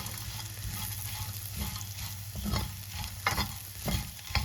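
Dried prawns being stirred and tossed in a hot pan for a traditional Kerala fry, with a steady frying sizzle and repeated scraping clacks of the spoon against the pan, close and fairly loud, no talking.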